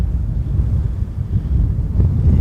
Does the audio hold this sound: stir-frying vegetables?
no